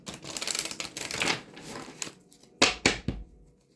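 Tarot cards are shuffled in quick riffling bursts, then a few sharp taps and slaps as the deck is squared, close and crisp.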